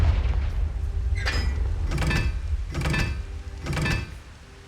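Confringo spell explosions in Hogwarts Legacy, four booming blasts spaced roughly a second apart over a low rumbling background, each with a bright crackling burst.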